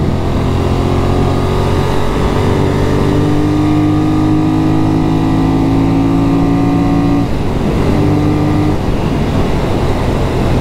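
A Benelli Leoncino 800 motorcycle engine drones loudly while riding, its pitch climbing steadily through the revs, dropping at a shift near the end, then pulling up again.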